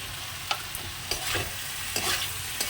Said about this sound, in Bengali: আর একটু বাড়িয়ে গ্যাসটাকে ভেজে নিই